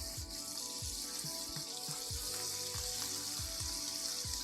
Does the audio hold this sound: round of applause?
no